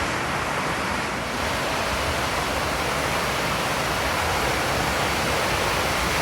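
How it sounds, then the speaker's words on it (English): Heavy rain pours steadily and densely without a break, a loud, broadband roar filling the whole stretch with no voices. "It has been raining all night. Pouring like this."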